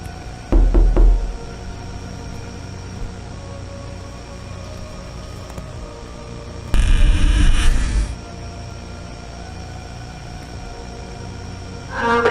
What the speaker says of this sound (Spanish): decide acercarse y toca la puerta